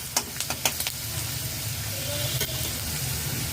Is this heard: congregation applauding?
no